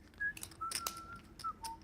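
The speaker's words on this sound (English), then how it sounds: "And whistling." A player at a poker table whistles a few short, wavering tones, the first rising and later ones sliding down, with soft clicks and chip noise around them and no talk.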